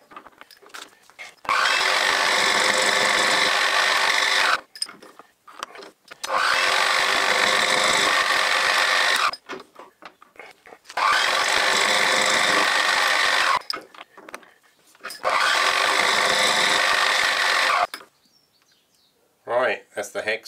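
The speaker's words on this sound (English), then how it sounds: "I'm going to take it over to the mill and mill the hex on it" Milling machine cutting a hex on a small part for a Stuart 10V model steam engine, heard as four loud sustained cutting passes of a few seconds each, separated by short quiet pauses.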